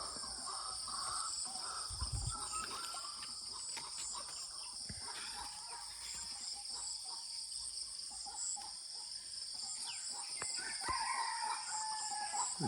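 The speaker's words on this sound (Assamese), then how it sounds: "চৰাই চিৰিকটিবোৰ কান্দিছে আৰু কুকুৰাও কান্দিছে" A rooster crows in the distance over a steady high chirring of crickets and insects, with scattered bird calls through a quiet outdoor scene.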